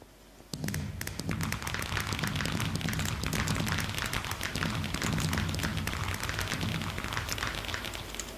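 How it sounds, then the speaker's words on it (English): Fireworks display in the video game Minecraft, with a dense, continuous stream of pops, crackles and soft thuds bursting steadily after a brief quiet start. "So let's enjoy this lovely fireworks display."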